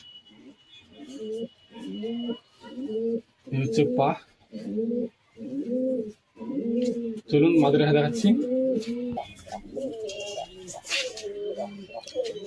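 Pigeons kept for racing coo in repeated soft, throaty bursts with short pauses between them, close by, while someone talks over part of the cooing.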